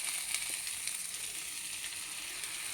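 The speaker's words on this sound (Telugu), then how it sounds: "కొద్దిగా అల్లం వెల్లుల్లి పేస్ట్ వేసి వేయించుకున్నానండి" Ginger garlic paste sizzles in a hot pan, a steady, close and fairly loud frying hiss with faint crackles that holds evenly throughout, with no talking.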